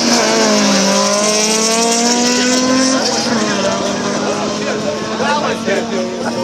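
Audi 90 drag racing car accelerating hard down an aerodrome strip, engine note climbing through gears with a brief tire squeal, loud and close, with a commentator talking over it throughout.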